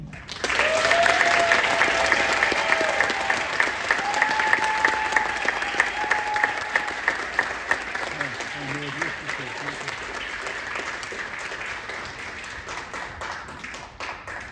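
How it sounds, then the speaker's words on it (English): An audience claps at a book launch event, loud, sustained and dense at first, then thinning into more distinct individual claps as it tapers off over about fourteen seconds, with a faint tonal note running underneath. "Please join me in a round of applause for Warrior Nurse Sarah L. Bloom."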